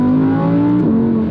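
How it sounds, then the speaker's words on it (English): The 510-horsepower naturally aspirated V10 engine of a 2017 Audi R8 V10 RWS revs hard and close, a loud sustained roar that dips and climbs again. "510 horsepower, naturally aspirated V10."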